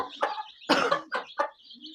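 Chicks chirp in short, sharp bursts close by, a few loud squawky calls followed by thin, high peeping.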